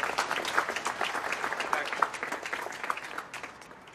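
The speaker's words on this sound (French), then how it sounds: "On va faire applaudir très fort." An audience applauds warmly at the inauguration of the Khanh Anh pagoda, dense clapping near and lively at first, then gradually thinning and fading toward the end.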